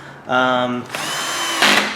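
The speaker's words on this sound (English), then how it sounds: "Alright, I'm going to set my drill for pretty low here." A power drill on a low setting drives Phillips screws during an air filter replacement on a 6.0L Chevrolet/GMC Suburban, Yukon XL or Silverado 2500, with a whirring motor that starts, changes pitch as it loads, and ends in a brief higher-pitched burst.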